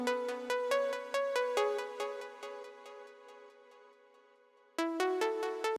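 A short catchy intro melody played on a Mac computer keyboard set up as a piano, with clear plucky notes in two phrases separated by a brief pause, the notes decaying gently.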